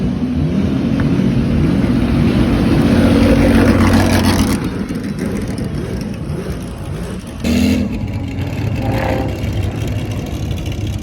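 A Ferrari BB LM race car with a flat-12 engine, a loud, steady mechanical drone that holds high, then drops and swells again briefly, heard without talk.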